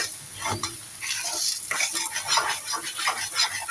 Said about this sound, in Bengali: লেবুটা দিয়ে আবারও নাড়াচাড়া করে দিচ্ছি